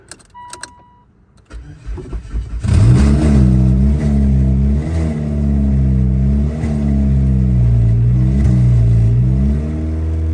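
A 2016 Mitsubishi Lancer engine, freshly installed and running without its exhaust, cranks and starts, then settles into a loud, raw idle with repeated blips of revving close by.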